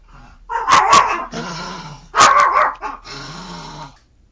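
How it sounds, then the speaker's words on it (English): Indoors, a dog barks at someone entering the house, giving two close, loud bursts of sharp barks, each followed by a lower growl. "she's barking because someone walked in the house"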